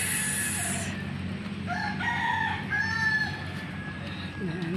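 A rooster crows on a rural farm in Cagayan Valley with a rising, drawn-out call amid steady outdoor background noise, with other birds chirping faintly.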